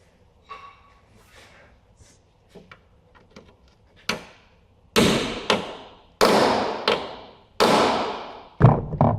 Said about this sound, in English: I'm going to tap that on with the hammer